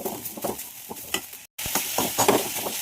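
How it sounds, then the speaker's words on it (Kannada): Drumstick leaves frying in a pan while being stirred, giving a steady sizzle with repeated scraping strokes, close by and with no talk. "ನುಗ್ಗೆ ಸೊಪ್ಪನ್ನು ಆ್ಯಡ್ ಮಾಡಬೇಕು ಇದು ಚೆನ್ನಾಗಿ ಹುರ್ಕೊಳ್ಳಿ"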